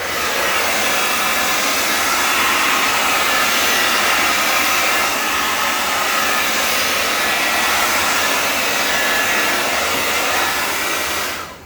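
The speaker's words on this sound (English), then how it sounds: "use the hair dryer this time" A hair dryer blows continuously at full power onto wet acrylic paint, a loud and even rushing roar that lasts throughout with no voices.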